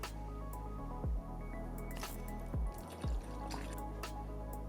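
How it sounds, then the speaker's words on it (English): Distilled water pours from a squeeze fill bottle into a water-cooled PC loop, a quiet trickle broken by a few separate drips and glugs, heard up close with no voices. "We're gonna start pouring in distilled water inside our system."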